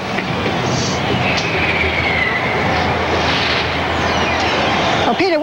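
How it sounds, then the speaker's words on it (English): Thousands of people crowd the Paris streets, cheering before the Eiffel Tower lights up for the millennium celebration, a dense, loud, steady roar of distant voices with whistles rising through it. "Well, Peter, what you are hearing is the sounds of people in the street, thousands and thousands of people cheering"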